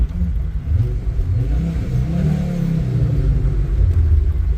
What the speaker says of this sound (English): I've got the windows down, so I hope you can hear the car